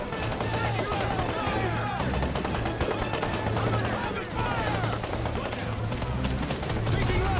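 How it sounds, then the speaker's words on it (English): Dense crackling gunfire keeps up without pause in a Men of War army-men battle at a military base, with many overlapping distant shots under a steady rumble, and a voice talking over it. "An exchange of fire at the moment."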